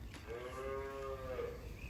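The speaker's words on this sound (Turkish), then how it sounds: "Bir baş simental inek satılır." A Simmental cow gives a single close, clear moo lasting about a second at a livestock sale.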